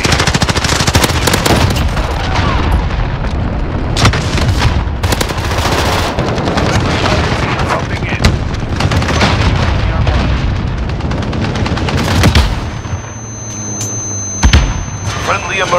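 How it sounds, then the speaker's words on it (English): Loud, continuous gunfire and explosions from a Call of Duty Modern Warfare match on PS5, with an allied cruise missile strike among dense booms and automatic fire throughout. A brief lull comes near the end before more blasts. "Allied cruise missile away."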